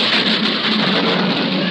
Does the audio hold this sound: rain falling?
yes